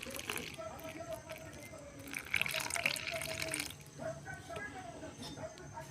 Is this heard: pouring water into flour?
yes